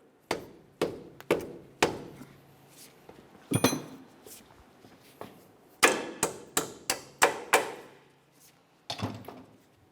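Bolt being hammered through a control arm bushing on a 2005-2010 Chevrolet Cobalt: a series of sharp metallic knocks, irregular then clustered, close and loud against a quiet garage background.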